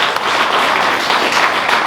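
A room full of colleagues at a SAMA 2019 gathering delivers a loud, sustained round of applause, dense and continuous without a break, and no one speaks over it.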